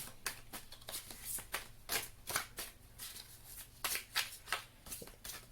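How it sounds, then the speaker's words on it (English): Tarot cards being hand shuffled, a quick series of crisp riffling slaps and soft flutters in an uneven rhythm, close up and quiet with no talk. "I'm just going to go ahead and start with a hand shuffle"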